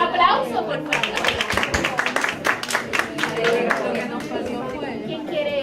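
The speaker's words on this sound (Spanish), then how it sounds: "Aplauso, por favor" An audience at a health professions symposium claps steadily for several seconds. The crisp, scattered hand claps sit under loud crowd chatter and voices talking.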